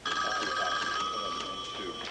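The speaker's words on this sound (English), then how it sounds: "Will somebody get that phone?" A telephone rings with steady repeated bell tones through the whole stretch, in an indoor police station setting, with faint voices underneath.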